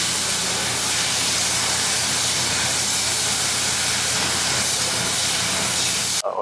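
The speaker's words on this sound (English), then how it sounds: "I'm done here welding" Welding on the exhaust muffler and catalytic converter of a 2000 Odyssey gives a steady, close, crackling hiss that holds evenly for several seconds before stopping abruptly.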